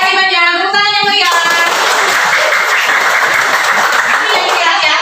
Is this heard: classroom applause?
yes